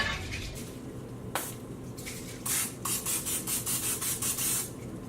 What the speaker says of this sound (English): I'm just gonna use good old cooking spray